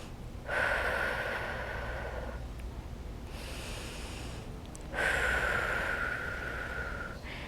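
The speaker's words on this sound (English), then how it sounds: "Inhale deeply and exhale deeply." Deep breathing during a Pilates workout, two long, loud inhale-exhale breaths close to the microphone with a quiet pause between them.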